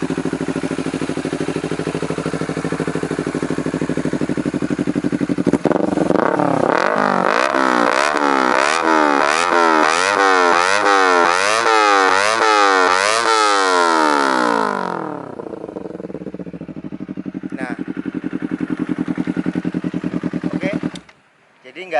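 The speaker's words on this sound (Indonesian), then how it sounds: "Dan sekarang di geber pun sudah tidak mengalami knalpot nembak-nembak." A Honda CBR250RR motorcycle engine, recently repaired for rough idle and exhaust backfiring, revs hard in repeated rising and falling bursts close by, then drops back to a steady idle with no popping.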